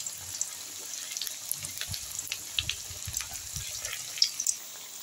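Thin vegetable slices frying in hot white oil in a kadai, giving a soft, steady crackle with scattered small pops and faint watery hiss, fairly quiet throughout.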